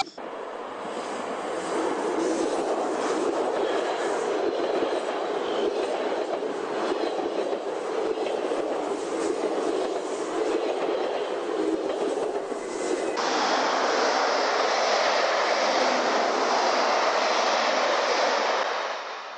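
Loud, sustained roar of a train passing close by in Holland, with rattling wheels and a continuous rushing wash that shifts in tone partway through as the cars go by, with no one talking.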